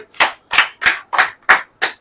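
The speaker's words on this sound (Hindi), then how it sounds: "ताली बजाइए" Six sharp, evenly spaced hand claps ring out close and crisp in a steady rhythm with silent gaps between them, and no talk over them.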